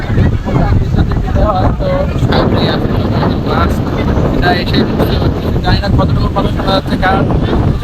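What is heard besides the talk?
strong wind blowing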